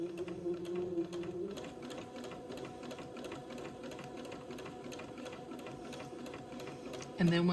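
Sewing machine stitching a quilt, running in a steady, fast mechanical whir with rhythmic needle ticks throughout, close and fairly quiet, with a brief louder change in pitch at the very end.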